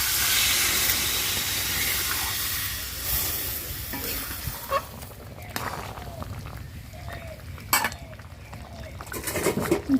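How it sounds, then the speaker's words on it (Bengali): A shrimp and jackfruit curry with potatoes boils in a pot after water is added to the spiced mixture. A broad steamy hiss fades into scattered bubbling pops and soft clinks close by. "ঝোলটা ফুটে উঠেছে"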